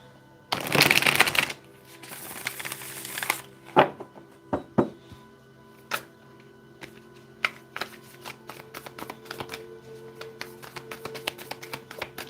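A deck of tarot cards is shuffled in one long close riffle, followed by scattered taps and soft card clicks as the deck is handled and squared.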